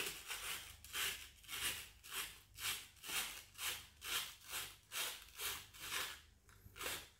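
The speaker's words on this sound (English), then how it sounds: "I'm going to take this 360 grit sandpaper, and I'm just going to wrap it around and just turn this" A metal airgun hammer is turned by hand inside wrapped 360 grit sandpaper, making close, steady rhythmic rasping strokes about once per second, with no talking.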